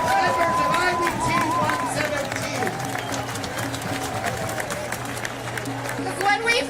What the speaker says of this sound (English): Can we get a round of applause for the lockdown workers at Mauser